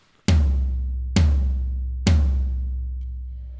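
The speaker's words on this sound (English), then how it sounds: "This big guy down here is called a floor tom." Three deep floor tom hits, evenly spaced about a second apart, each booming low and ringing out slowly before the next strike.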